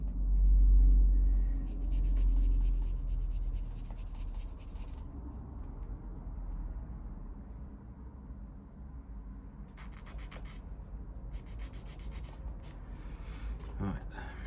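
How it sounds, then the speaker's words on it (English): Plastic parts from a 1/24 Revell Iveco Stralis truck model kit being cleaned up where they were cut from the sprue, giving soft, steady scraping and rubbing close by with a low rumble underneath. "Cleaning up all the bits where we cut it off."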